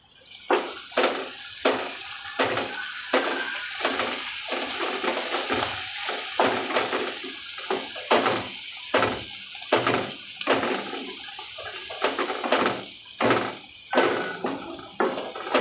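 Red chili powder sizzles in a pan of spinach and gathiya curry as a spoon stirs in steady, regular strokes, each stroke a scraping, sizzling burst, close and moderately loud, with no talking.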